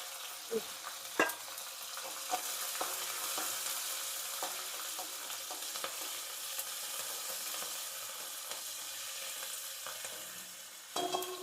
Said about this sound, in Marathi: मिरच्या थोड्याशा आपण भाजून घेऊ